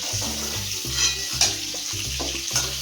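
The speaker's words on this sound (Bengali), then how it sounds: "কালকে ডিমটা বেশি ভাজতে হবে না, একটু হালকায় ভেজে নেবেন" Eggs fry lightly in a pan with a continuous bright sizzle close by. Soft, rhythmic low thumps and occasional stirring sounds run underneath.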